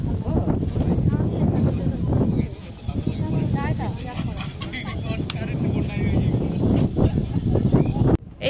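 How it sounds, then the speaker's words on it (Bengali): Strong wind gusts over a walkway beside the water, buffeting the microphone in uneven rumbling bursts while a person talks over it. "এখানে এত বেশি বাতাস"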